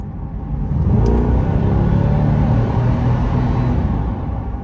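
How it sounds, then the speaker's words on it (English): A 2021 C8 Corvette engine rises under light, roughly quarter-throttle acceleration, a steady loud rumbling drone heard from inside the car that holds strong for several seconds before easing slightly. "driving the 2021 C8 Corvette. Giving it some gas right about now"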